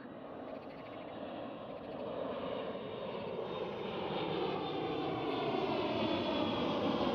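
KLM Cityhopper Embraer E175 airliner at Amsterdam Schiphol, a steady, moderately distant jet engine roar that swells slightly as it passes, with no voices.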